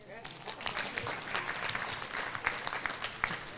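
Audience applause fills a public lecture hall, a dense steady patter of many hands clapping that swells briefly and continues throughout.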